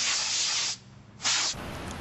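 Short blasts from a can of compressed air clean computer vents: a sharp steady hiss, a brief pause, then a second burst that tails into a slightly softer spray.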